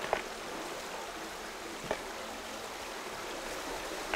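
A creek runs by an old culvert, a steady broadband rush of flowing water with a few faint clicks and splashes and no voices.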